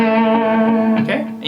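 Distorted electric guitar plays a quick pentatonic lick sprinkled with chromatic passing tones, sustained notes with effects ringing loud and close, no talking.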